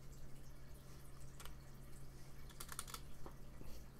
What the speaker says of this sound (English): So just type in I and hit enter.